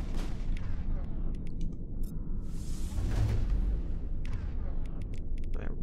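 Sniper rifle fire and battle effects in the Mass Effect video game: sharp, booming shots and whooshing blasts sound close and fairly loud, with a faint voice now and then.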